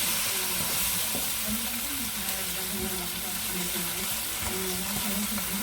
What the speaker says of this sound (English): I'm gonna let this fry up a little bit